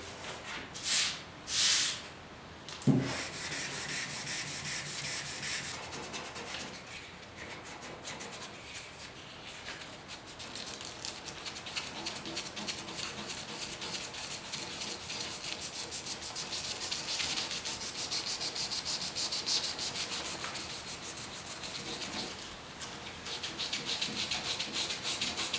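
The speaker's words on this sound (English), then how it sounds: "I didn't hit this with 220 at all because I don't want to sand this twice." A 1972 Ford 4x4 pickup tailgate sanded by hand with 320-grit sandpaper, a few handling knocks at first, then a long, steady back-and-forth rasping rub, close and continuous with no talking.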